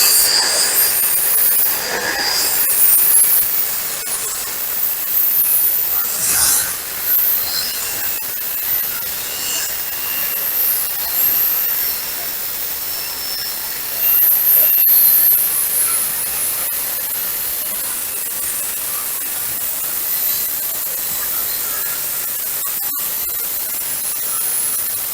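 Power saw cutting a sink cutout in a high pressure laminate countertop, a sustained harsh, gritty whine with brief surges, running continuously and loud without any talking.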